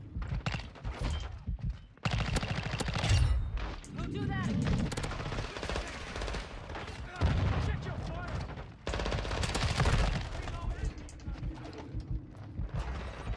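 Heavy Modern Warfare II gunfire, including shotgun blasts, fires in dense, loud bursts throughout, with sharp individual reports and brief lulls between volleys.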